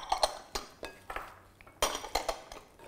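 Potatoes, bell pepper and onions are tossed together in a bowl, heard as a series of light utensil clinks and scrapes against the dish in an irregular rhythm, fairly quiet and close.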